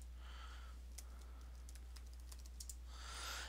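Light clicks on a computer keyboard as a sudo emerge command is typed, a short burst of quick, close keystrokes followed by a brief pause, quiet and without speech.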